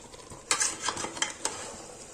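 Rice being stirred into chicken biryani in a pot, with a few scraping, clinking spoon strokes against the metal over a faint low sizzle, close and quiet with no voices.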